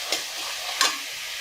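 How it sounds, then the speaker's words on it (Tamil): Tomatoes sauté in a pan for chicken curry with a continuous hissing sizzle, broken by two brief louder scrapes of a stirring spoon, close up and without speech. "தக்காளி நல்லா வதங்கிடுச்சு."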